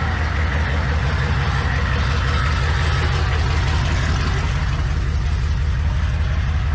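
A vehicle engine idles nearby with a steady, low, continuous rumble that holds an even level from start to finish, with no talking over it.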